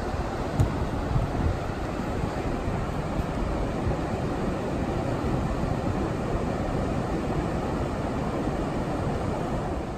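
Pacific Ocean surf on a beach at Montañita, Ecuador, a continuous loud wash of waves mixed with strong wind buffeting the microphone and no speech.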